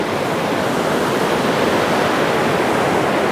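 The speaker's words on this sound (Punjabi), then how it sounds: "ਬਰਫ਼ ਦੇ ਥੱਲੋਂ ਪਾਣੀ ਮਤਲਬ ਬਰਫ਼ ਖੁਰ ਖੁਰ ਕੇ ਪਾਣੀ ਵਜ ਵਜ ਕੇ ਬਰਫ਼ ਵੀ ਖੁਰਨੀ ਸ਼ੁਰੂ ਹੋ ਗਈ ਆ" Snowmelt water flows out from under the snow at Chandanwari in Kashmir, a loud, steady, close rushing wash with no other sounds over it.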